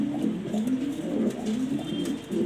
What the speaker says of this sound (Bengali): নটটা অনেক ভালো একটা কবুতর